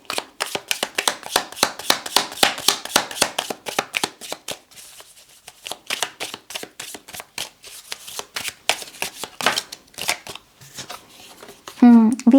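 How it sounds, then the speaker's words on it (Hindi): A tarot deck is shuffled by hand in long runs of rapid, crisp card flicks and slaps, close and fairly loud. Brief pauses break up the shuffling, and a voice cuts in at the very end. "यहाँ पर मैंने जैसे इस डेक को उठाया, इसमें ट्विन फ्लेम लिखा हुआ है।"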